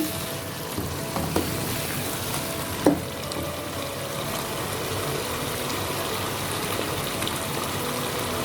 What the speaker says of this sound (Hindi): तो चलें, अब हम इसमें डाल देते हैं राजमा।